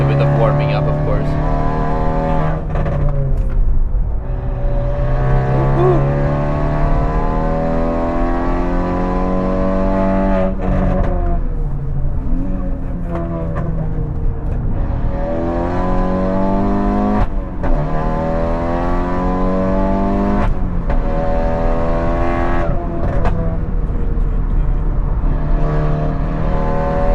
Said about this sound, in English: The car is so easy to drive. It has just the right mods. A bit of more exhaust volume.